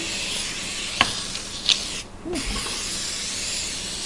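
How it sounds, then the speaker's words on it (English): A short burst of cooking spray hissing steadily for about half a second onto a baking pan, close by, with a couple of light clicks before it in a quiet room. "Okay, just give it a really good spray."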